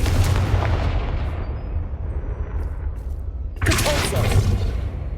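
Confringo spell blasts in the Hogwarts Legacy video game: a loud booming burst at the start that decays into rumble, then a second sharp explosive blast near the end.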